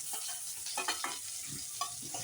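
Onion, tomato, cashews and almonds fry in a pan for a palak paneer base, giving a steady close sizzle with soft scraping stirs and small crackles throughout.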